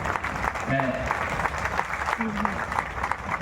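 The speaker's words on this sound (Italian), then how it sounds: "Facciamo un applauso alle mie alunne che sono messi lì." Festive audience clapping for a teacher's students at a summer celebration in Sardinia, a dense round of applause with a voice briefly speaking over it.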